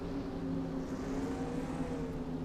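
Stock-car engines from a Daytona racing video game hold a steady, droning rev just behind, a continuous mid-loud hum with no talk over it.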